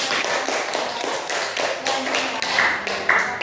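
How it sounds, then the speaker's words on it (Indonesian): Students in a classroom clap together, loud and close, a dense run of hand claps with rhythmic accents lasting the whole few seconds, without speech on top. "Kita berikan tepuk tangan."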